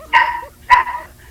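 A dog barks twice, close and fairly loud, with a short pause between the sharp barks and no talking.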